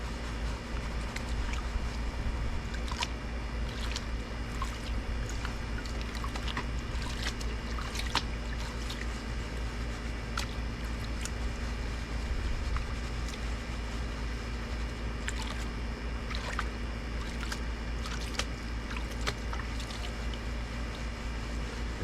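Sand from a Home Depot bag swirled and sloshed in water in a 10-inch gold pan, giving a steady close wash of churning water with scattered gritty scrapes and splashes throughout.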